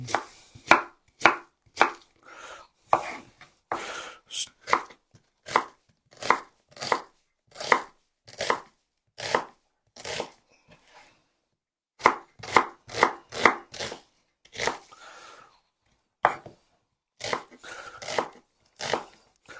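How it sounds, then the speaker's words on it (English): A knife thinly slices onions on a board in a brisk, even rhythm of crisp close chops, about two per second, with brief pauses between runs and a dog faintly audible in the background. "let's get these onions nice and thin"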